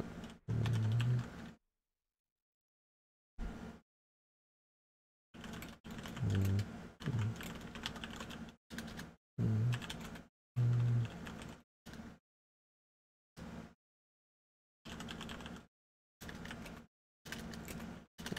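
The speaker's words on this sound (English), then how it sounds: "If I was better at typing, this would be faster." Bursts of computer keyboard typing at a PC during a Dark Souls gaming session, quick clattering keystrokes arriving in short clusters separated by silent pauses, fairly close and clear with no talk over them.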